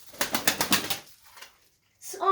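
Pigeons in a loft give a quick run of rhythmic wing-flapping bursts, then a pause and a short, soft call close by.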